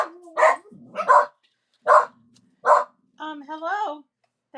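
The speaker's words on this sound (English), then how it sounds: "Wow, he's really barking loud" Benji, a dog, lets out several loud, close barks spaced about a second apart, followed by a longer wavering whine or yowl.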